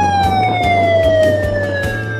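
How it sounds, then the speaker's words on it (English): A loud electronic siren from an Amplivox 10W emergency megaphone wailing with a descending pitch, close and continuous, with a pulsing rhythmic beat underneath. "Third, it has a siren."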